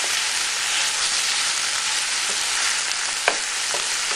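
Peppers sizzle and fry in a pan alongside pork chops, giving off a steady close hiss, with a few light scrapes and clacks as a utensil stirs them around; nobody talks.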